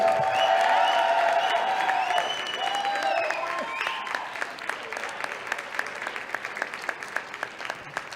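An audience at a Golden Star 2019 dance competition in New Jersey bursts into loud applause and cheering that gradually thins out into scattered individual claps.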